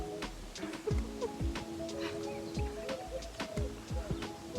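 Birds call repeatedly nearby, short chirps and cooing notes over a quiet outdoor background, with a few sharp taps in between.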